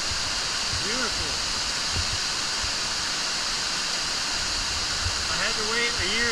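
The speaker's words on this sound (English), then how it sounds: "What an amazing waterfall." Walupt Creek Falls roars in a steady, broad wash of falling water close by, with a person's voice faintly audible over the rushing near the start and end.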